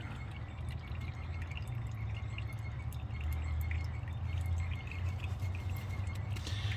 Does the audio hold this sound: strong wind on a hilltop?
no